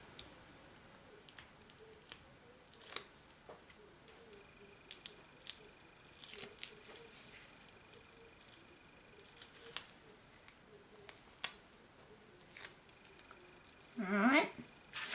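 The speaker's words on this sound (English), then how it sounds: "on the back of the dress you're just going to put 3 strips of tear and tape. So I'll just quickly remove those." Backing strips peel off tear and tape on a handmade card, giving faint scattered ticks and short crackles that end in a brief louder tearing rasp, all quiet and close.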